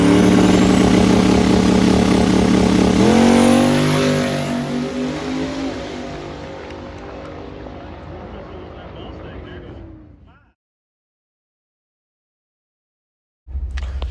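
A twin-turbo Mustang street car makes a drag racing pass on a no-prep track, a loud engine roar that shifts and then fades into the distance before cutting out, with a brief burst of noise returning at the end.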